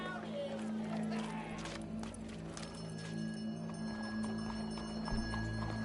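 Horse hooves clip-clop at a steady trot beneath a droning game soundtrack, with voices talking over them.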